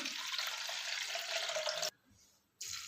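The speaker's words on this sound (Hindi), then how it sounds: "तो अगले दिन ये पानी मैं निकाल रही हूँ इस तरह से" Soaking water is poured off swollen wheat grains, a continuous splashing stream that runs for nearly two seconds, stops abruptly, and resumes briefly near the end.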